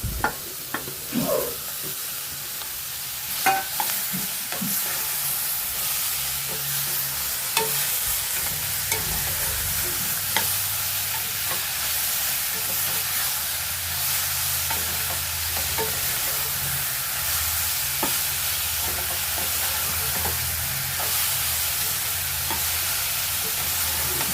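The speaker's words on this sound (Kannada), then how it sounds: "ಚೆನ್ನಾಗಿ ಫ್ರೈ ಆಗಲಿ ಇದು ಸ್ವಲ್ಪ ಹೊತ್ತು" Chopped tomatoes fry in oil in a pan for a potato, green peas and capsicum curry, a steady close sizzle with occasional clicks and scrapes of stirring throughout, no talking.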